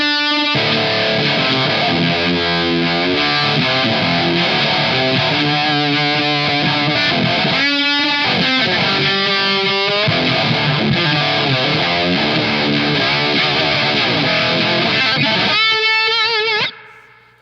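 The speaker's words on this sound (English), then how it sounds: "So it's like having fuzz, univibe, and then some sort of an overdrive pedal." An electric guitar played through fuzz and univibe pedals into a dirty 5-watt Tungsten Single Plex plexi-style amp rings out loud and sustained, distorted chords shifting and swirling, then cutting off abruptly near the end.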